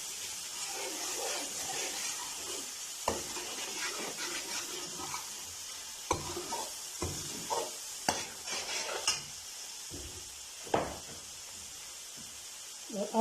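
Ginger garlic paste is stirred as it fries in a pan for egg masala curry, with a steady sizzle throughout and a spoon scraping and clinking in scattered strokes, sharper knocks at intervals.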